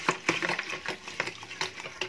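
A homemade baking soda disinfectant mixture is stirred in a container, giving repeated close scraping and swishing strokes at an uneven rhythm with no talk.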